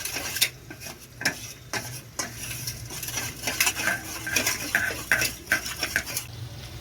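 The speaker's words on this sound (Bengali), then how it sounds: "ভালোভাবে মিক্সড করে নিতে হবে সসগুলো সব।" A utensil stirs chili chicken sauces thinned with water in a metal pan, giving repeated clinks and scrapes over a soft simmer, with no one speaking.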